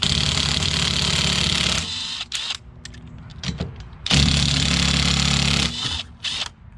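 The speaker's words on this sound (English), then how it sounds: "This rigid works really well if you're interested in an impact wrench." A Ridgid impact wrench rattles loudly on a car's wheel lug nuts in two long bursts with short, choppy trigger pulls between them, close and alone.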